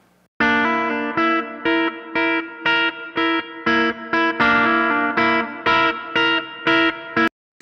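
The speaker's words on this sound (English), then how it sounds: "I bring this little guitar part in to kind of carry the rhythm" Rhythm guitar part played through a Line 6 Helix multi-effects unit, with distorted, chorused chords struck in a steady repeating pattern of short sustained stabs separated by brief gaps, loud and up front with no voices.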